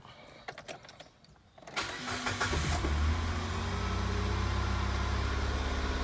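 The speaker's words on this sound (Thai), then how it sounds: "สตาร์ทเครื่องได้ปกตินะครับ" A Nissan March car engine cranks over after a few faint clicks, catches, and settles into a steady, loud idle that continues to the end, close by.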